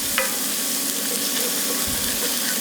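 Dried chilies are stir-fried in a hot pan, giving a loud even sizzle with scraping and tossing noises and a brief clatter near the start, no one speaking.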